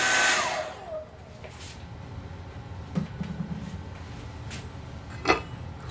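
A hair dryer blows steadily to speed-dry a watercolor painting of a Scottish castle, starting loud and close, then settling into a softer continuous whoosh with a few small clicks and knocks.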